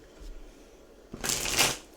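A deck of tarot cards is shuffled close up, one short soft riffle after a near-silent pause, ending in a quick papery burst.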